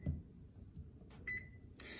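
A Whirlpool gas range control panel gives a few short electronic beeps as its timer is switched off, faint and spaced apart over a quiet room.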